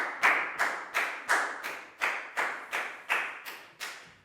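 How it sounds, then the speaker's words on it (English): Schoolchildren clap together for a classmate during a Year 4 maths lesson, a close, steady patter of about a dozen sharp claps in even rhythm, with no talking over it. "Big round of applause for Prel,"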